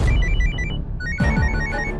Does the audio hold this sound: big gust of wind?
no